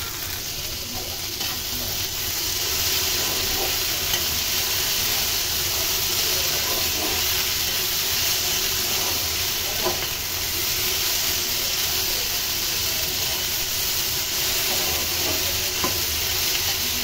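Chopped okra frying with salt and turmeric for okra bharta, a loud, steady close-up sizzle with continuous stirring scrapes throughout, no talking.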